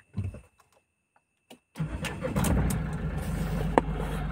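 A Mahindra Bolero Neo engine starting: a few faint clicks, then the cranking engine catches and settles into a steady, close idle rumble.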